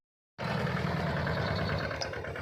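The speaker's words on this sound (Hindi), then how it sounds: "छोटे ट्रैक्टर के द्वारा जो ट्रेंच विधि से बोया हुआ गन्ना है उस पर जो मिट्टी चढ़ाई जा रही है" A small tractor earthing up soil over trench-planted sugarcane in a field: after a moment of silence its engine cuts in abruptly and runs as a steady, close, rumbling drone to the end.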